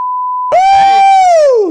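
A steady electronic censor bleep covers a swear word for half a second, then cuts straight into a loud, drawn-out vocal cry.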